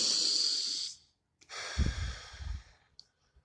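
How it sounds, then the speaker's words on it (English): A person breathing deeply during meditation: a long exhale, a brief pause, then another slow, heavy breath in and out, close and fairly loud with a faint snort-like rush, followed by quiet. "Just fucking breathe."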